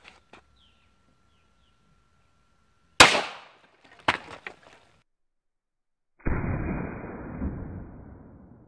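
A .22 Long Rifle round fires into a block of cornstarch-and-water oobleck. A sharp crack comes at three seconds, a smaller impact follows a second later, and then a burst of broadband noise that slowly fades.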